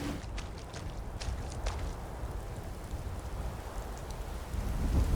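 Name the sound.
rain falling in Skyrim video game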